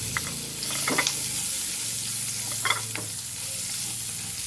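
Steady sizzling of ginger, garlic and shallots frying in a pan, with a few scraping stirs and soft clinks throughout.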